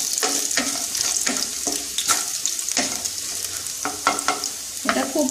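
Garlic frying in a pan on a gas stove as the base for a beetroot paste, with steady sizzling broken by repeated stirring scrapes, loud and close, and no talk.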